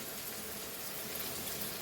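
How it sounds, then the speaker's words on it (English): Tamarind pulp water poured into a cooking pot for a traditional Goan okra curry, a steady broadband watery pour that runs evenly and continuously, close and fairly soft, with no talking. "and now we will add this tamarind pulp water"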